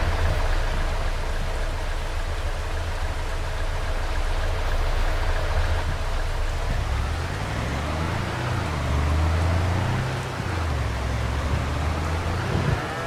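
Steady rain hisses across a Farming Simulator 25 farm in Louisiana, a broad continuous wash of noise with low engine-like rumbling rising and falling underneath in the second half.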